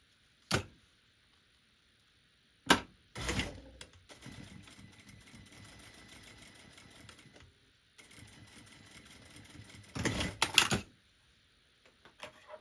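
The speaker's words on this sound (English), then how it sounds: "now I'm going to sew these two end pieces together." A sewing machine stitches strap end pieces together for a garment duffle bag, a run of rapid mechanical whirring near the mic between several sharp handling clunks and brief pauses.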